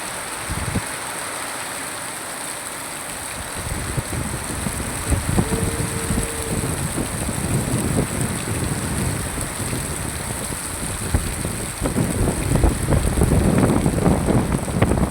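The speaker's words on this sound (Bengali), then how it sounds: "প্রচণ্ড পরিমাণে বাতাস, প্রচণ্ড পরিমাণে বাতাস।" Heavy rain driven by strong wind falls on a Malaysian village as a continuous broadband roar that grows louder and rougher toward the end, with scattered splashes and gusts.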